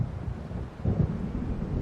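Thunder from an approaching storm in Alan Wake rolls in low and rumbling, swelling midway with a heavy, diffuse roar over a windy, rainy wash.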